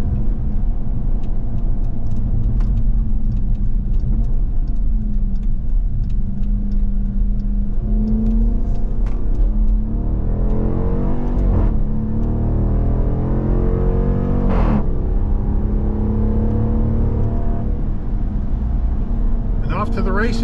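A 2023 Dodge Durango R/T Premium AWD engine revs and accelerates up through the gears, a loud rising growl with sweeping pitch climbs, under steady talking from inside the cabin.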